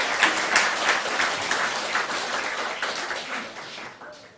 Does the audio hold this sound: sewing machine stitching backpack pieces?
no